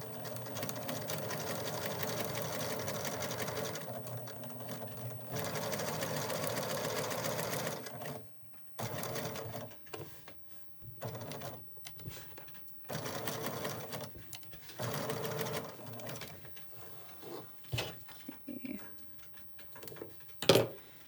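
Sewing machine stitching a fabric face mask, including a reverse stitch over the seams, in several runs of steady whirring broken by pauses and clicks, with someone talking between and over the bursts.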